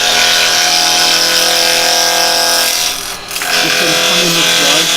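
Woodturning on a lathe, a gouge cutting a spindle of pine, giving a loud, steady whirring and scraping that dips briefly midway before resuming at full strength, with no talk over it.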